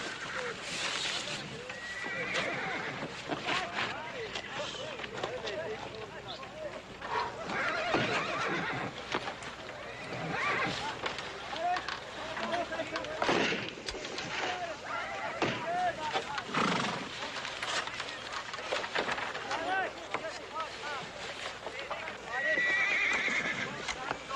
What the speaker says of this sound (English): I want to see the horses.